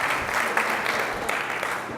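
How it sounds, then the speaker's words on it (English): Audience applause after a guest named Josh is introduced at a UConn Foundation event, a steady dense wash of clapping filling the room without pause. "So round of applause for Josh."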